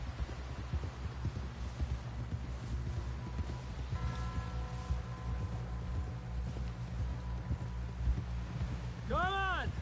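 Horse hooves clip-clop at a steady walking rhythm while a rider is carried toward a camp in a video game, under humming music and voices.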